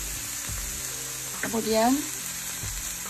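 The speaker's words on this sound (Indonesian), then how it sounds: "Sekarang kita masukin brokolinya." Broccoli florets dropped into a hot pan of wilting vegetables sizzle steadily, a brief crackling swell rising in the middle, while a voice speaks a word at the start.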